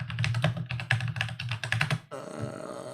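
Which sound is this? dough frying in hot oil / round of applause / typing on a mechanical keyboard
typing on a mechanical keyboard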